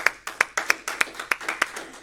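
Hand claps at a New Hampshire Press Association 2020 journalism awards presentation, sharp, distinct claps in a steady rhythm, about a dozen in two seconds, from only a few people, close and clear.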